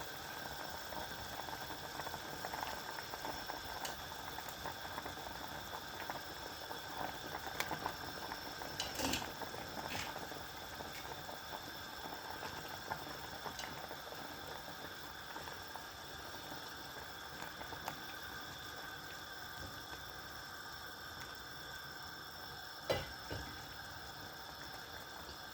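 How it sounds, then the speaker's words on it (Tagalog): Sinigang pork soup with eggplant at a rolling boil in a pot, a steady low bubbling hiss that runs on evenly for the whole stretch with one or two brief clinks, no voices. "Kulong-kulo na"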